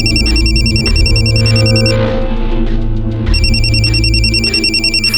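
Telephone ringing in a village house in Rajasthan, a loud electronic ringtone chiming in repeated bursts with a short pause in the middle, close and clear with no one speaking.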